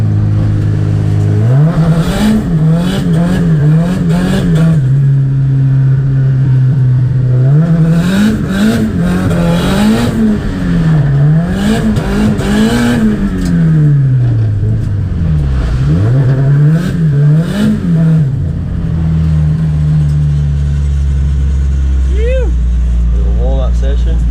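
A drift car's engine revs hard and continuously on a wet track at a drifting event in Mt Gambier, the pitch rising and falling in repeated loud bursts as the car slides, with faint voices underneath.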